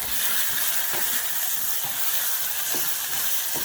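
Shallots and grated garlic cooking in a pan, a steady loud sizzle and hiss that runs throughout with light crackles and no talk.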